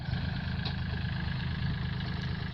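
A tractor tills a flooded rice paddy in the distance during the rainy-season sowing, its engine a steady, even drone that holds without pause throughout.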